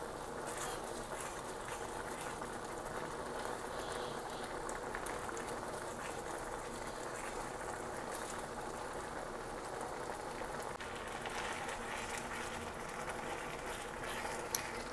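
Macaroni and cheese pasta simmering in a pot over medium-low heat, a steady soft bubbling and faint crackle that goes on unbroken with no voices.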